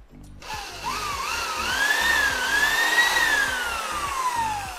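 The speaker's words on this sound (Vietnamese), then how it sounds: "Chức năng khoan thường." A Japanese-market Makita 100V drill runs in normal drilling mode as one steady, close whine that speeds up and eases off in pitch over several seconds, with no talk.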